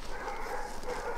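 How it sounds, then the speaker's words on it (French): Sled dogs barking at a snowy dog-sledding spot in extreme cold near Montréal, a dense, continuous chorus of many dogs heard at moderate distance with no talk over it. "On entend déjà les chiens."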